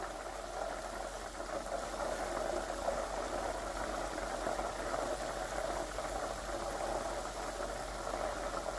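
Butter simmering hard while being cooked down into ghee, milk solids foaming: a steady, dense bubbling crackle that holds evenly throughout, close and moderately quiet with no voices.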